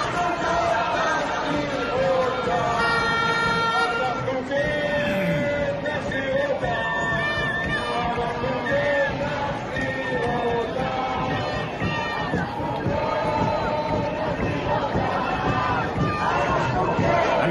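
A dense crowd packs the streets of Tel Aviv at a protest against Netanyahu, a continuous roar of chanting, shouting and babble with whistles and cheers rising through it, loud and unbroken throughout.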